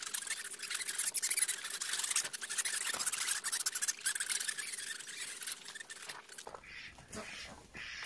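Ducks on an eco-farm, including green-headed mallard drakes, squeal and squawk in a noisy, continuous jumble while being caught, close and loud, with a shift to rustling handling noise near the end.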